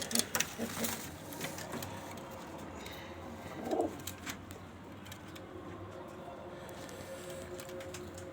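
Pigeons cooing in a loft, soft low coos rising a few times over a quiet background with faint clicks and murmurs, fairly distant and low in level.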